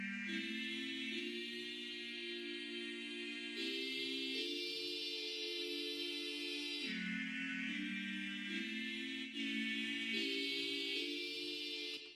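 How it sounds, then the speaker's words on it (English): Sampled electric guitar chords, treated with tremolo and reverb in a Q sampler, ring out as sustained, steadily pulsing harmonic tones, shifting chord every few seconds in a continuous loud progression with no voices. "added some tremolo and reverb and just played the chords that I'm playing on the electric guitar"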